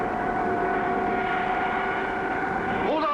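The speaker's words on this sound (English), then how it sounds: "I can't pull the plane up. Must be a strong downdraft. The plane won't climb." A cartoon airplane engine drones loud and steady as the plane struggles to climb, a sustained buzzing tone that bends and wavers in pitch just before the end.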